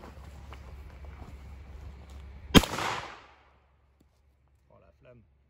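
A 12-gauge shotgun cartridge fires at a wooden log outdoors, giving one sharp, loud blast with a short decaying tail over wind noise, then near silence with a faint brief murmur of a voice.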